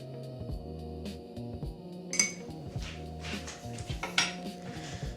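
A metal spoon stirs a mixture, clinking repeatedly against the container in an uneven rhythm, close and fairly quiet.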